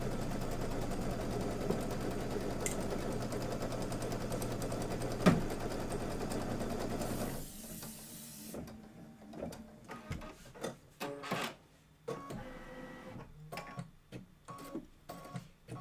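A machine embroiders a Kimberbell table topper with a steady, rapid stitching buzz for about seven seconds, then stops, leaving sparse clicks, taps and handling knocks.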